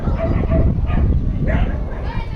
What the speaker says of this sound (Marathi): कुत्री सगळे भुकत आहेत त्याला